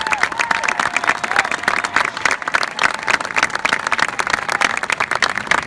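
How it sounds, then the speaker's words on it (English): School assembly audience clapping steadily throughout, a dense sustained applause from a crowd in an indoor hall, with a faint murmur of voices beneath it. "So I think we owe a special round of applause to Mr. Miller for getting us back there."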